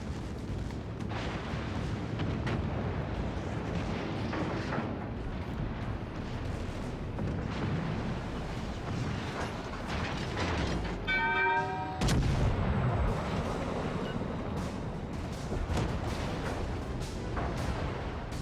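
A battleship fires broadside salvos in the naval game World of Warships Legends, giving heavy booming blasts with a roaring rumble. One louder volley lands near the middle, and there is no talk.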